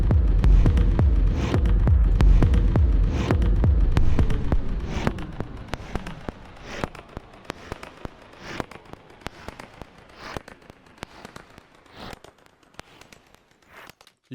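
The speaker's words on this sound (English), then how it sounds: "if I use the shifter in frequency mode, it will pitch the sound in a way that the low end will kind of disappear" A throbbing loop pitch-shifted by Ableton's Shifter effect in frequency mode, its heavy low end fading away after a few seconds, leaving thin, noisy high-frequency pulses repeating steadily.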